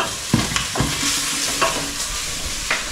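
Food frying in a pan, with a continuous loud sizzle close by and a few sharp clacks and scrapes of a utensil stirring it.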